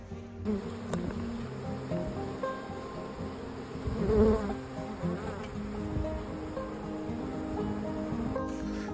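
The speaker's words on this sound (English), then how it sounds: "I'm finally done with the bees." Honey bees hum in a steady, droning buzz around a hive, close and continuous, with no talking.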